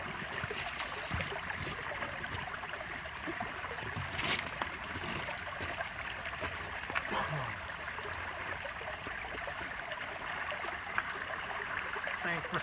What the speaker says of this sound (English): It's one of those little meandering brooks that's coming down, going down to the mountain, going into the lake